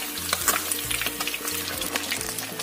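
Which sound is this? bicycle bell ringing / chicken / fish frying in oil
fish frying in oil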